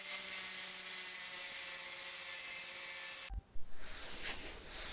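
Allen key being cut with a power tool, a steady high grinding whine holding for several seconds before abruptly cutting off, followed by a sharp clunk and faint rattling handling noises.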